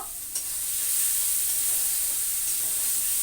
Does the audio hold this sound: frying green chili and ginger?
yes